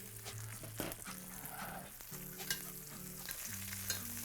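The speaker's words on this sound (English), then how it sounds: "Butter's nice and browned" Butter browns in a pan while scraps of pineapple and onion fry in it, giving a constant crackling sizzle punctuated by scraping stirs and soft clinks, close and fairly quiet.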